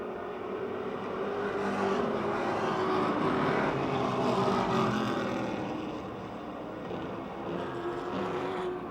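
Street stock race cars roar around an oval in a Napa Auto Parts heat race at Motordrome Speedway, a loud, steady blended engine drone that swells and eases slightly as the pack passes.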